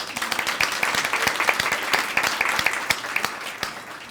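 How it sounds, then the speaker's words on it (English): Audience applauds a student of the year's father at an awards event, a dense, sustained patter of many hands clapping with occasional sharper claps standing out, steady and fairly close throughout. "let's just give him a big round of applause"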